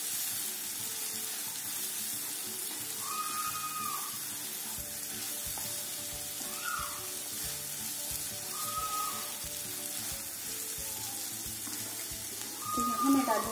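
A small cup of water poured into a pan of fresh turmeric curry, with steady hissing sizzle and bubbling throughout, occasional stirring clinks, and a louder splash near the end.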